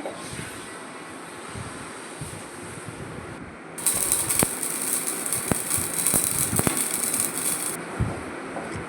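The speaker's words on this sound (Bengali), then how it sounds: "এবার এটা সর্ষেটা গুঁড়ো করে নিচ্ছি" Electric grinder pulverising dry-roasted mustard seeds in a kitchen, a loud high-pitched whirring burst of about four seconds after a quieter hum, with rattling clicks from the seeds in the jar.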